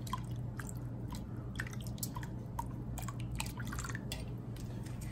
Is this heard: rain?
no